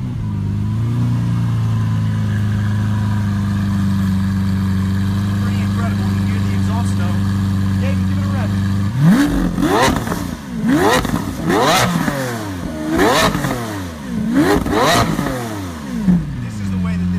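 A Lamborghini Aventador SV with a Lamborghini racing exhaust idles steadily at first, then is blipped through a run of sharp, loud revs rising and falling in quick succession, close up.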